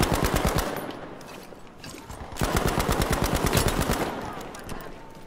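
Rapid automatic gunfire from a video game, two long bursts of closely spaced shots with a brief lull between, loud and continuous, with faint voices underneath.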